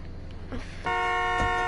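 A car horn in the Roblox emergency game blares as one steady, sustained honk that begins partway through and holds loud and unbroken to the end over faint game background.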